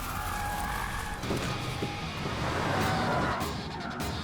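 Tires squeal and skid as a transport truck is swung around, a sustained scraping hiss with engine noise, loud and close, no talk.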